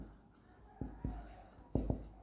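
Chalk or marker strokes on a board during a physics lesson on electric dipoles, a few short distinct taps and scrapes spread over a quiet, faintly humming room.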